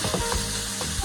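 Ground meat sautéing in a skillet crackles with a dense, close sizzle during one brief moment.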